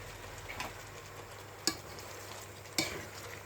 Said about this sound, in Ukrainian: Тушимо ми таку цибульку пару хвилинок. Ось уже ще крепше, бачите, кипить.